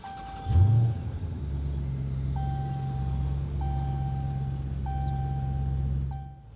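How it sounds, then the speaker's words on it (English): A 2016 Dodge Challenger R/T Scat Pack engine is started with the push button, firing with a brief loud rumble and then settling into a steady, deep idle while the cabin's warning chimes repeat in a regular rhythm. "Starting the vehicle without the remote start, you get in the vehicle, put your foot on the brake and hold it, and push this button."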